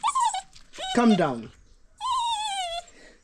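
A dog whimpers and whines in high, drawn-out cries, eager to be let outside, with a few close, plaintive bursts separated by brief pauses.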